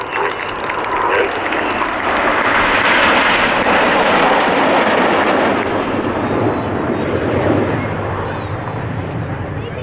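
Display jets in Concorde formation roar overhead at an airshow, a loud, continuous engine rumble that swells and fades slowly, with commentary faintly underneath.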